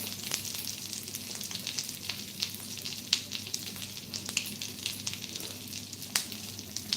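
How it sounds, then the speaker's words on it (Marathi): Halved boiled eggs are sautéed in a pan with spices, producing a steady close sizzle with frequent sharp crackles and pops and occasional soft stirring scrapes. "अशा पद्धतीने अंड आपल्याला जे बॉईल अंड करून घेतलेलं आहे ते चांगलं परतून घ्यायचं आहे"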